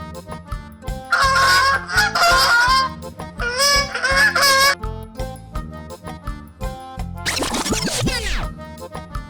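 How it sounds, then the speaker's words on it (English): A goose honks in repeated nasal bursts in two loud clusters, followed by a squealing descending call, with cheerful background music running throughout. "Goose."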